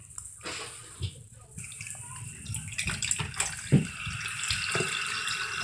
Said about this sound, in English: You have to turn on the water.